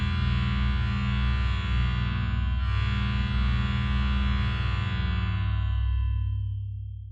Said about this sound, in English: Let's try a different flavor of reverb and run it with 20 recursions.